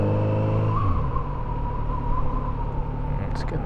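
A Kawasaki Z900RS motorcycle rides along Nashville roads, its engine droning loud and steady, with a pitch drop near the start as it shifts gears and someone talking over it.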